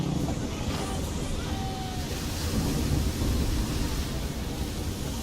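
A storm at sea in Assassin's Creed III gives a dense, constant roar of wind, rain and surging water around a sailing ship, steady and loud throughout with no clear thunderclap.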